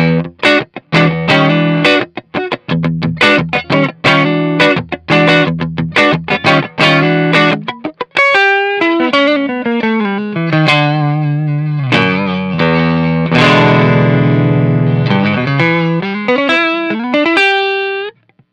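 Electric guitar runs through a DC Pedals Dirty Boost pedal, opening with choppy, loud strummed chords and then moving into ringing single-note lines and sustained chords, all driven and close.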